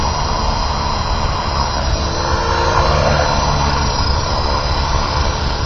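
An Align T-Rex RC helicopter with its engine at idle up, a steady, loud, continuous whine and rush heard close by and alone, with no talking.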